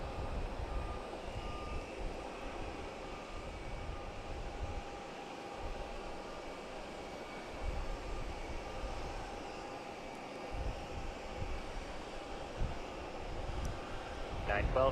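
An airliner taking off at Logan Airport, a steady distant engine roar and rumble that swells slightly over time, with air-traffic radio chatter and voices faintly underneath.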